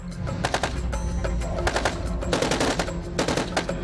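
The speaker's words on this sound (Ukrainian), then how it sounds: "Першим по козаку стріляли із стрілецької зброї" Rapid bursts of small-arms gunfire crackle in quick succession at an armored vehicle, loud and close, with brief gaps between volleys.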